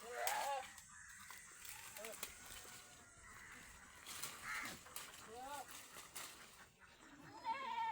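Several three-and-a-half-month-old goat kids at a farm sale bleat in short rising calls, some close and some farther off, over a quiet background with someone talking at times.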